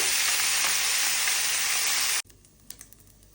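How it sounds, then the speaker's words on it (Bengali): Loud, continuous sizzle of fish frying in oil, cutting off abruptly, followed by quieter faint clinks and rustles. "মাছটি ভেজে নিতেছি"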